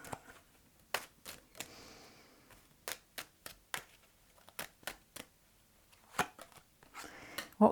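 Tarot cards are shuffled and riffled in quick, soft clattering bursts, close and quiet, with pauses between the runs and a louder shuffle at the end.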